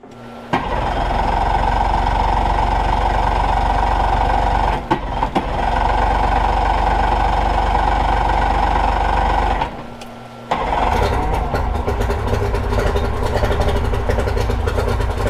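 A boat outboard engine running on flush muffs makes a loud, steady, close drone. It cuts out briefly twice, then resumes with a rougher, clattering tone.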